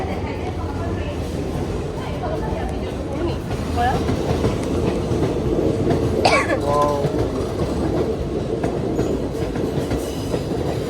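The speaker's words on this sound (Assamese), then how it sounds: "ট্ৰেইনখন দেখাই দিওঁ নেকি" A train rumbles past nearby with a rhythmic clatter of wheels on the rails, with faint voices in the background.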